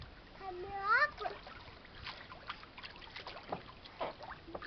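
A child swims and splashes in water, with light, irregular splashes and trickles close by, while an adult and someone talk over them throughout.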